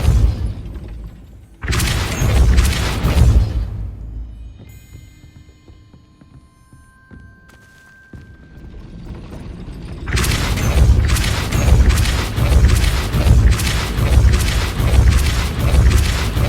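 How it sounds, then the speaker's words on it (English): In Hogwarts Legacy, a spell strikes a mechanism that raises a gate: a heavy booming impact with a crashing burst, then a quieter mechanical stretch before a long loud grinding rumble returns and persists. "That looks as if it might raise the gate."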